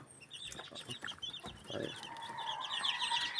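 Chicks and chickens being fed, with soft clucking and high peeping calls rising into a busier chirping chorus, fairly quiet and close, with no talk.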